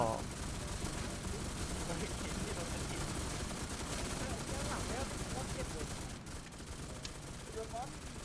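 Rapid gunfire in a video game, continuous overlapping shots and bursts filling the whole stretch at steady loudness, with players talking underneath.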